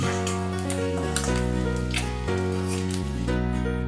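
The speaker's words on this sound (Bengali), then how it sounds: "ডিমগুলো আমি ভেজে নিলাম কড়ায় অল্প তেল নিয়েছিলাম" Eggs sizzle and crackle in a little hot oil in a wok, a continuous frying hiss over a steady low humming drone.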